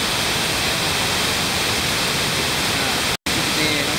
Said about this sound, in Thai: เกือบ70เมตรนะครับ มีความสูงลดหลั่นกันมาประมาณ 3ชั้น ไหลจากป่าเขาใหญ่ออกมาสู่น้ำตกสาริกานะครับ